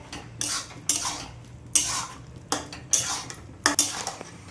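Spoon scraping and clanking in a pan of soybean and onion curry being stirred with garam masala, about six distinct close scrapes at a steady rhythm, with no talk.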